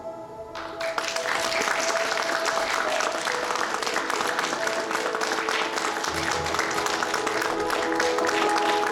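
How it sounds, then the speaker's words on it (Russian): Sustained applause from an audience at a children's creative-arts Christmas ball contest as the participants are called onto the stage, steady dense clapping filling the room for the whole stretch after a brief quieter start. "А сейчас под бурные аплодисменты приглашаем на сцену всех участников"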